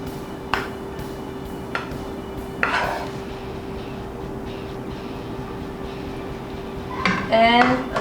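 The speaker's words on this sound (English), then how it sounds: "Now that our fried rice is ready, I'm gonna place it here on a plate." Low carb fried rice is set onto a plate with a few sharp clinks of dishware and utensils, then a louder scraping clatter near the end, all close by over a steady low hum, with no talk.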